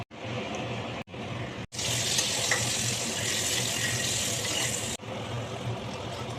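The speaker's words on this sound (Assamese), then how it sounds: "এনেকৈ পটলখিনি অকণমান ফ্ৰাই কৰি ল'ব।" Cut pointed gourd fries in oil in a pan, giving a continuous bright crackling sizzle that briefly cuts out a few times, close and steady with no talking.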